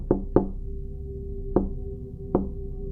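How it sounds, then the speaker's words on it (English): Knocks land on a wooden cabin door in four sharp, close raps, two quick ones and then two spaced apart, each with a short hollow ring, and nobody speaks. "the scratching and knocking start again"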